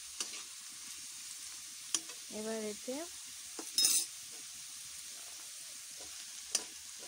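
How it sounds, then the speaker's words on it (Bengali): Carrots and beans in a wok give a quiet, low sizzle under intermittent stirring clinks and scrapes, with a brief spoken phrase partway through. "আমার গাজর আর বিন কড়াই ভালো করে ভাজা হয়ে গেছে।"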